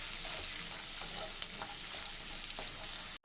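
Green chillies fry in a pan for curry leaves rice, giving a constant close hiss and crackle with small spatters throughout before it cuts off abruptly.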